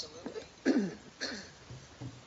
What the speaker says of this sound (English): I have to cough here